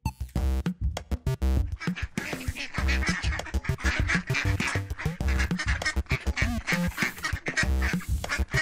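Cartoon ducks quack in quick, dense bursts alongside busy cartoon music and effects, loud and continuous throughout.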